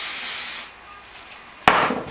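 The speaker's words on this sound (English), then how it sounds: "And I just spray the section." A soft hiss of volumizing hairspray sprayed onto a section of hair for about half a second, followed by quiet, then a sudden brushing sound close by.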